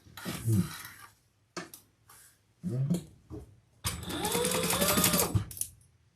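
A sewing machine stitches a crossbody bag in short whirring bursts separated by quiet pauses, ending with a longer, louder run of stitching.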